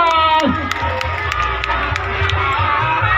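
Carnival crowd at a neighborhood parade in Cigugur Girang, Bandung, clapping and cheering, a steady wash of applause with sharp claps and shouts over a continuous noisy background.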